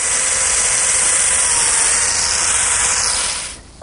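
A biscuit joiner cutting slots into the ends of a table rail, giving a loud, steady high-pitched whine that runs continuously and then winds down at the end.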